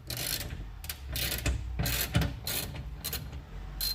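A ratchet fitted with a long-reach 10 mm socket loosens a bolt on a 2017 VW Transporter Mk6 door, sounding as several close, rhythmic bursts of clicking pawl strokes separated by short pauses.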